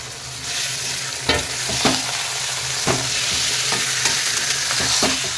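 Chicken pieces frying with browned onions in a hot pan, a loud continuous sizzle broken by repeated scraping and clacking stirs of a spoon, close and without voices.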